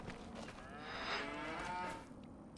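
A single long moo from a cow on a dairy farm rises and falls over about two seconds, moderately close, with no one talking.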